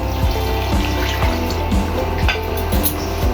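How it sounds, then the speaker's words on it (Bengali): Water poured from a jug into flour for pitha dough in a home kitchen in Bangladesh, a steady trickling splash with repeated drips, close and continuous with no talk. "আর জল দিবা তো"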